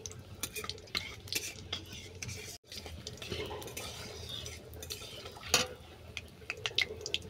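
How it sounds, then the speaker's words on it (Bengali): Bay leaves and dried chillies frying in oil as a tempering, a soft close sizzle under frequent clinks and scrapes of a utensil stirring against the pan. "ফোড়নটা ভালো করে ভেজে নেব।"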